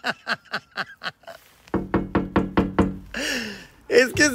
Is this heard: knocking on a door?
yes